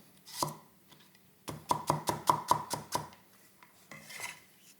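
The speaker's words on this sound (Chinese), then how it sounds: "差不多1大块的姜，我们把它切片" A knife slices a large knob of ginger on a cutting board in a home kitchen, giving a single chop followed by a quick run of about seven crisp, evenly spaced cuts and a softer final one.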